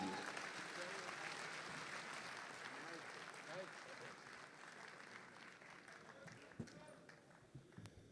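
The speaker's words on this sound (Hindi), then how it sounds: "हाथों को हवा में लहरा के तालियों की गूंज के साथ आवाज दीजिए" Applause from the audience at a mushaira poetry gathering in Dubai, a sustained dense patter of many hands clapping with voices murmuring and calling out over it, gradually thinning toward the end.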